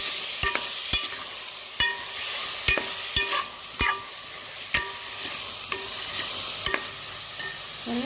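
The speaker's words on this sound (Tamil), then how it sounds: "நல்லா கிளறி விட்டுக்கலாம்" Goat liver gravy being stirred in a pan with a spoon, sharp scraping strokes repeating at an uneven pace over a steady soft sizzle, close up with no voices.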